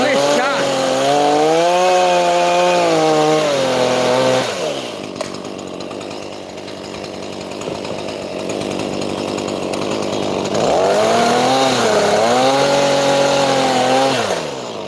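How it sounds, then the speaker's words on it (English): A chainsaw cutting firewood in a New Zealand winter revs loud and close, easing off into a lower idle midway before climbing back to a full cutting whine, with no talk over it. "you'll never really see me ringing the chainsaw out, you know, especially when you're cutting like this"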